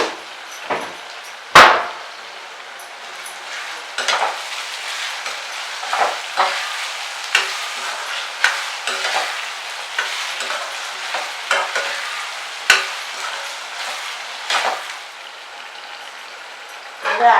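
Turmeric seasoning for lemon rice frying in a pan, a steady soft sizzle broken by repeated scraping stirs and occasional sharper clinks of a spoon against the pan, with no talking.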